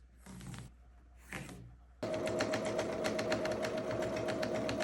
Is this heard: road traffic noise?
no